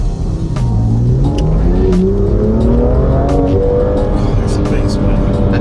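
A BMW M2 engine revs hard under acceleration, its pitch climbing steadily while holding a gear without shifting up, loud and close from inside the car, with occasional faint sounds over the drone.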